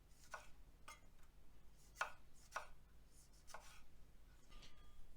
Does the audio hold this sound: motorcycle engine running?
no